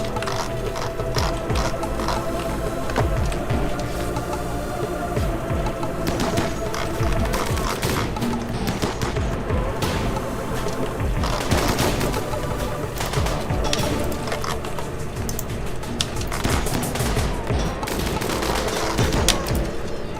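Gunfire rattles through a RimWorld battle, bursts of shots and a rolling fusillade going on steadily for about twenty seconds at a fairly even loudness, dense with sharp clicks and mechanical rattles, with occasional talk over it.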